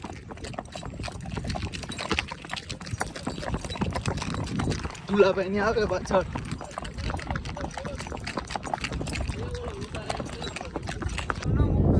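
A mare walking slowly with a rider on her back, hooves clip-clopping in a steady rhythm close by, while people talk over and around the hoofbeats.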